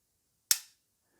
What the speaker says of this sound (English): Then the gun goes click